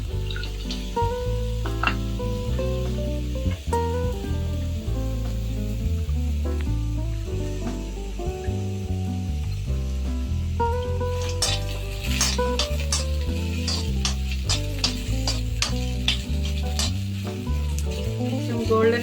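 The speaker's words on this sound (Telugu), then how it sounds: "కొంచెం గోల్డెన్ కలర్ వచ్చేంత వరకు వేయించుతాం" Onion, green chillies and fresh coconut frying in a pan until golden, a loud continuous sizzle with frequent stirring scrapes and metallic clinks of a utensil against the pan.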